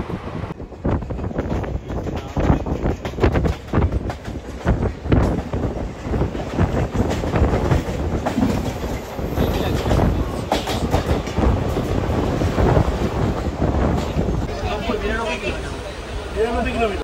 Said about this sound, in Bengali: 22302 এনজিপি হাওড়া বন্দে ভারত এক্সপ্রেস, কি সুন্দর গেল।